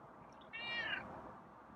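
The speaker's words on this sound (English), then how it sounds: "Not sure why he's meowing." A single drawn-out meow from a feral cat, fairly close but soft, rising then falling, against a quiet room hiss.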